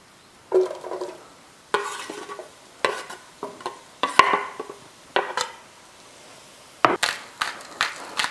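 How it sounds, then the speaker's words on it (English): Onions dropped into about two tablespoons of melted butter in a pan over medium heat, giving a soft sizzle with repeated scraping and stirring bursts, close and fairly loud, with pauses between. "Once your butter is melted, you can go ahead and add your onions."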